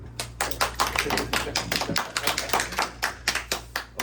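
A small audience at a special lecture on art and literature claps sparsely, with distinct individual hand claps in an irregular rhythm, close and fairly quiet, over a low steady background hum.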